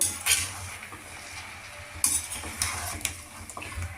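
A spoon clinks and scrapes against a pot while salt is mixed into tomato sauce, giving repeated metallic taps and stirring sounds over a faint cooking hiss.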